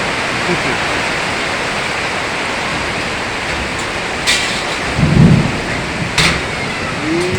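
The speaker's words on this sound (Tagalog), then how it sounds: "Maulan na panahon." Heavy rain pours steadily in an outdoor metalworking spot, a dense even wash of sound with a low rumble of thunder swelling near the middle and a few brief sharp knocks.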